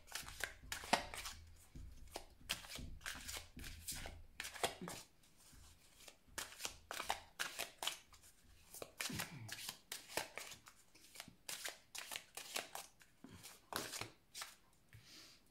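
Oracle cards are shuffled by hand in quick, papery bursts of riffling and slapping. The bursts repeat irregularly, close and fairly soft, and nobody speaks.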